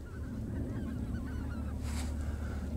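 Geese honking in flight during a goose hunt, a steady chorus of calls from a flock passing overhead, with a brief louder burst midway.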